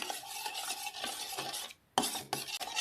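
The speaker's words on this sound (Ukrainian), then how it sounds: "перемішую" Waffle batter with vanilla sugar being stirred by hand in a bowl, a steady scraping, swishing rhythm up close with a brief pause before stirring resumes, no voices.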